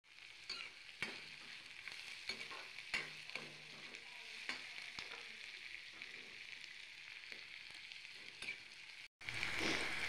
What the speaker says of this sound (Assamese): ইয়াত এতিয়া মই শুকান জলকীয়া আৰু তেজপাত দি দিছোঁ